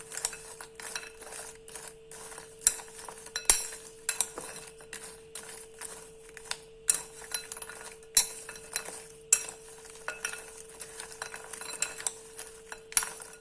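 Potato chips are tossed with yellow food coloring in a bowl for vegetable biryani, making steady clinking and scraping of a utensil against the bowl in quick repeated strokes, close and fairly quiet, with no talking.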